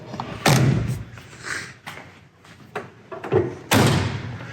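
Door of a 1967 Pontiac Firebird swung shut with a solid slam, followed by a few lighter thumps and a second firm closing, close by with a voice briefly heard.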